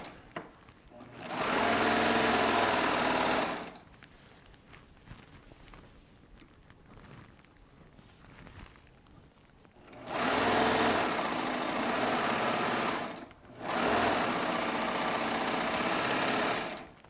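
A Baby Lock Triumph serger stitches along a 108-inch-wide quilt back in three steady, loud runs of whirring, separated by quieter pauses.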